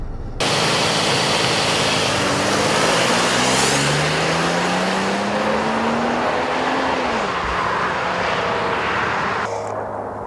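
A 2015 Toyota 4Runner TRD Pro accelerates hard from 0 to 60 mph more than a mile above sea level. Its loud, close engine drone climbs steadily in pitch for several seconds, then drops sharply at a gear change under constant road and wind roar.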